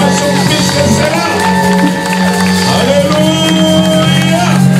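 Church congregation at a French-language charismatic worship service raising loud acclamations and shouts over sustained music, a dense continuous crowd roar with whoops throughout.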